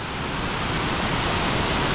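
Tad Khu falls near Pakxong, Laos: a steady, dense roar of falling water, loud and unbroken throughout, with no voices.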